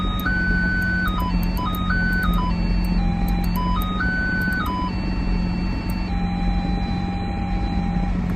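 Parking sensor beeps in a Lamborghini Aventador SVJ, adjusted in pitch to play a little stepped melody of sustained electronic tones over a steady engine hum, then settling on one held note.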